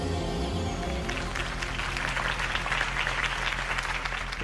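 A large crowd applauds steadily after Harvey Dent's campaign speech in the Batman Telltale video game, a dense wash of clapping following a brief low musical tone at the start.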